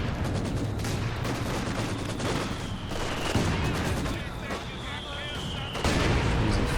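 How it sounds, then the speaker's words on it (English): A mortar barrage and other artillery and gunfire in a Company of Heroes–style real-time strategy game, a dense continuous rumble of booms and shots, loud and unbroken, with a commentator talking over it. "He's firing it on the mortar."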